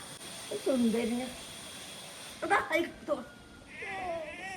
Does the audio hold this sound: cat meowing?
yes